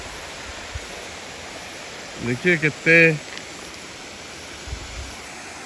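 Rathibali waterfall near Pottangi in Koraput: a steady, broad wash of falling water runs throughout, with a brief burst of talk partway through.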